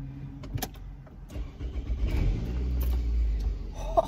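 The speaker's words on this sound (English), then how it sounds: "So we're going to start the engine." A car engine cranks and catches, then settles into a steady low rumble, close by with small clicks and cabin noises around it, during a driving lesson.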